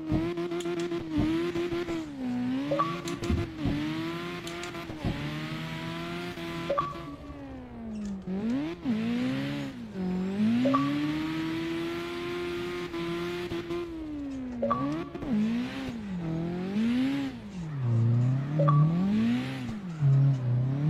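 A drifting car in the CarX racing game wails as the engine revs rise and fall repeatedly, with throttle blips and clutch kicks, the tone swooping up and down over about twenty seconds with no talk over it.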